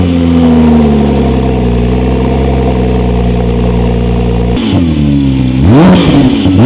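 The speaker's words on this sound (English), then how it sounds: "Ryan's finished the exhaust, so let's see what it sounds like." Porsche GT3 race car with a newly built exhaust, idling loud and close with a deep, steady drone, then a sharp throttle blip climbing and falling near the end.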